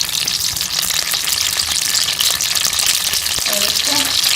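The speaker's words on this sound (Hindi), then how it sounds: "इसके अंदर मैं प्याज डाल दूंगी" Onions fry in ghee in a karahi with a loud, dense, steady sizzle and crackle, close up, with faint stirring clinks near the end.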